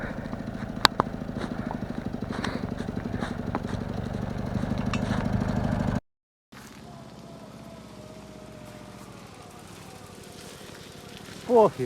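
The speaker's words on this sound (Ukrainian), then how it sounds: "мотоцикл тяне." A motorcycle engine hauls a heavy oak stump load, running loud and throbbing for about six seconds before a brief cut, then continuing as a quieter, steady engine drone.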